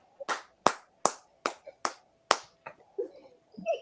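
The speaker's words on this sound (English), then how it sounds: "What y'all clapping for?" An audience claps in a string of sharp, separate claps spaced roughly evenly, fairly near, then thins into a few scattered softer sounds at the end.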